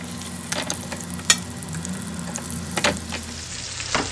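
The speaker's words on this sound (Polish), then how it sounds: "Smaży mi się ładnie" Steady sizzling of beef shank frying in a pan until golden, with a few sharper pops and crackles rising out of the continuous hiss.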